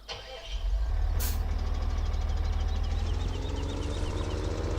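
Massey Ferguson tractor engine in Farming Simulator 17 starting up and settling into a steady, loud low idle rumble that holds for several seconds, with no talk over it.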